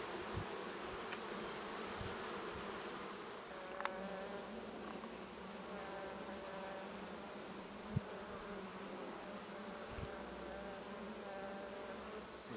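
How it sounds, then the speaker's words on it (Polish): Honeybees hum in a dense, steady drone as they are shaken off a brood frame during spring colony strengthening, with a few sharp knocks and taps breaking through the close, continuous buzz. "zabieram tą ramkę, strzepuję pszczoły"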